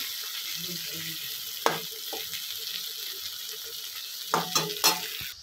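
Fried beans, peas and cauliflower tipped into simmering khichuri, with a steady pan sizzle underneath, a sharp clatter of utensils near the start, and a flurry of stirring scrapes and clinks toward the end.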